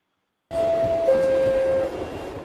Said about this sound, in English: a great simple clip of a subway train pulling into the subway stop